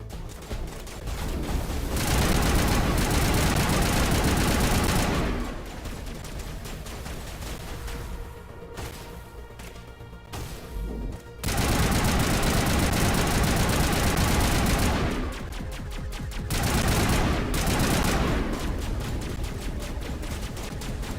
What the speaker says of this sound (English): You're shooting a goddamn wall, Rex.